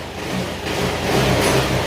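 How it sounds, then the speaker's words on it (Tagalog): A Yamaha Aerox scooter engine revving after an engine refresh, a steady close-up engine drone that rises slightly in pitch and loudness toward the end. "Ang ganda na yung tunog ng makina niya ngayon."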